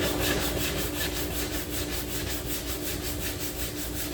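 A body panel on a 2017 Chevy Sonic is hand-sanded in an X pattern, giving a steady, close, rhythmic rasp of repeated back-and-forth strokes with no voices.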